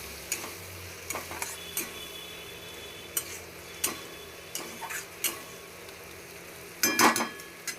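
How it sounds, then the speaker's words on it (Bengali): Ridge gourd with spice paste stirred in a pan, a spatula scraping and tapping in scattered short strokes over a quiet background, with a louder cluster of clatter near the end. "বাটাটা দিয়ে দেবো দিয়ে ভালো করে নাড়তে থাকবো"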